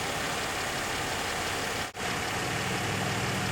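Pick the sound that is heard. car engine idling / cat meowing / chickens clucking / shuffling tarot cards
car engine idling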